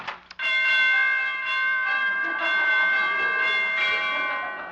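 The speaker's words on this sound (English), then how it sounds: "Door chimes need tuning." A set of door chimes rings out with a bright, sustained metallic tone that rises quickly and then slowly fades, sounding slightly off-pitch.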